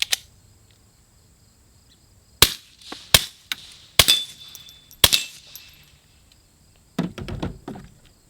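A Puncher Mega integrally suppressed air rifle fires four sharp, dry cracks at about one-second intervals, each with a brief ringing tail, followed by some low clattering handling noise.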